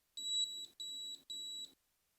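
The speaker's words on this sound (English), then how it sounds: "If we press alert, this starts beeping." A Megawheels Aotos S2A electric scooter's alert gives three evenly spaced, high-pitched electronic beeps, clean and close, then falls silent.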